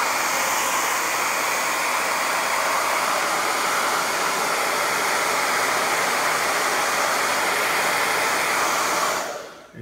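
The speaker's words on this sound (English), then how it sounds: "you get yourself a hair dryer" A hair dryer blows steadily at full power, a loud even hiss-roar that cuts off right at the end.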